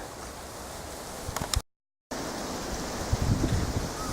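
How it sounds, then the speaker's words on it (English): Wind blows outdoors along a walking path near a tea-growing area around Mount Kunimiyama, a steady broadband rush with mic buffeting and a short break in the middle. "The wind's picked up a little bit, so hope that it'll be sheltered."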